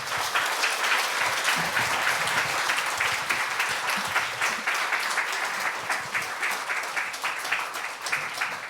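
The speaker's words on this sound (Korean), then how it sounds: "우리 김성섭 선교사님을 우리 박수로 맞이하겠습니다" A church congregation at a Wednesday service gives sustained, dense applause to welcome a missionary, a continuous, even wash of many hands clapping with no talk over it.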